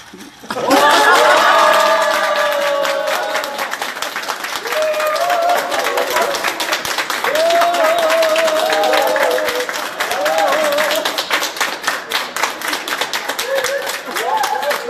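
A large crowd of townspeople claps and cheers loudly at the opening ceremony for the KTX Taehwagang station in Ulsan, with dense sustained applause and whistles running the whole time and voices shouting over it.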